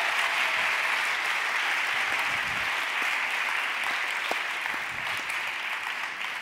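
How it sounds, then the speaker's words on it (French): A conference audience claps in sustained, dense applause that stays loud and even, with a few sharper individual claps standing out near the end. "je vais vous demander d'applaudir les diversity makers qui sont passés avant moi"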